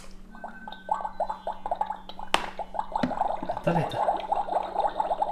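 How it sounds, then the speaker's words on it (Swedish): A Magic Mixie toy cauldron machine bubbles and gurgles with rapid wet popping and a steady low hum, with a few clunks and a brief voice in the background. "Det är inte vattnet som låter, det är maskinen som låter."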